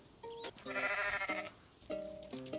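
A goat bleats in Goat Simulator, two or three loud, close, wavering cries with brief gaps between them, heard alone without talk.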